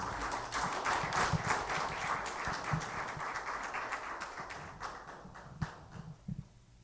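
A seminar audience applauds to welcome a professor, a dense, fairly faint clapping that thins into scattered claps near the end.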